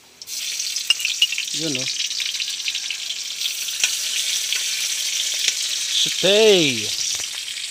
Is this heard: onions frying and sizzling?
yes